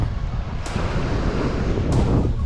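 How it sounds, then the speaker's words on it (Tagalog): Rough sea waves wash and surge near a small boat while strong wind buffets the microphone in loud, roaring gusts, with two sharper bursts standing out. "grabe yung alon"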